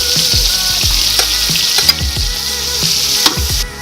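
Sausages sizzle loudly in a pan for rougail saucisse, with a bright constant frying hiss and repeated scraping stirs at a quick, regular pace, heard close and alone.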